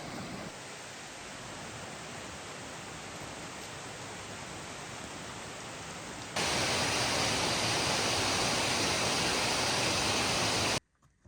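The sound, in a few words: waterfall at Comer's Falls on the Appalachian Trail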